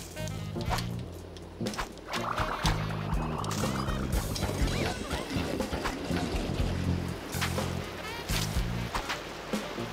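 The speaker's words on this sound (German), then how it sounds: "Oh, das Wasser." Water splashing in the video game de Blob 2, with sloshing and trickling noises over a looping bouncy game music bed, moderately loud.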